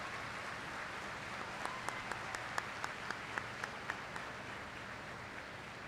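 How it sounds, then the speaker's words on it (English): Steady, fairly distant applause from the crowd at the 2024 Bishop Noll Institute commencement ceremony, honoring parents and family members. A few sharp, louder claps stand out in the middle. "let's take a moment to applaud our moms, dads, uncles, and others who have made a difference in these students' lives"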